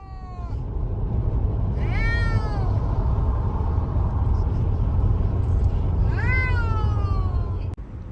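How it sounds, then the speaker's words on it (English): Inside a moving car, a cat lets out two long, drawn-out yowls a few seconds apart, loud and close, over the constant low rumble of the road and engine. "one extremely touchy cat, who didn't take a break from the constant yowling"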